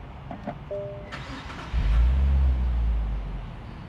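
A Nissan Fairlady Z Nismo is started with its push button: a couple of faint clicks and a short chime, then the engine catches with a loud, close roar that settles into a low idle.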